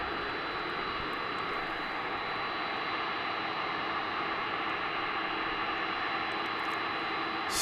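A jet airplane at DFW International Airport roars with a steady, loud, broadband engine rush that holds unbroken throughout, close by and alone with no talk.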